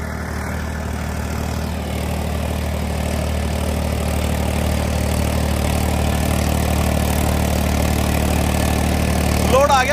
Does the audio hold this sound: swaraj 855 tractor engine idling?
yes